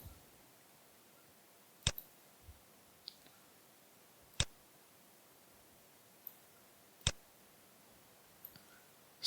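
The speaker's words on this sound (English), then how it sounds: "I'm just clicking the mouse" A computer mouse gives a handful of sharp, isolated clicks spaced a second or two apart over faint background hiss.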